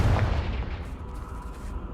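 A Confringo blasting spell detonates in Hogwarts Legacy: a heavy, rumbling boom at the start that decays into a roaring tail over about two seconds.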